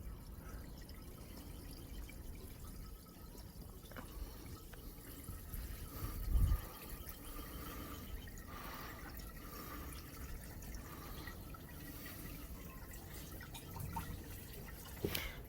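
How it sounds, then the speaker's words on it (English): Water running and trickling steadily into the radiator of a 35 kW Briggs & Stratton generator during a radiator flush, a continuous close filling sound with faint drips and one brief thump partway through. "So now we're refilling the radiator"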